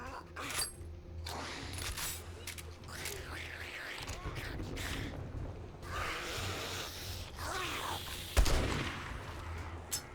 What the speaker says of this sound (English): The shotgun isn't very good.